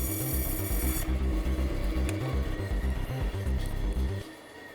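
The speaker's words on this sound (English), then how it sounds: "I'm going to go set the table on the bandsaw to an angle and trim this off." Bandsaw trimming wood at an angle on a tilted table. A close, rasping cut runs steadily for about four seconds with a pulsing motor hum beneath, then fades out at the end.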